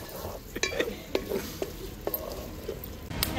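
A spoon scrapes and knocks against a pot while chicken curry ingredients are stirred, giving a string of irregular metallic clinks over a soft background hiss.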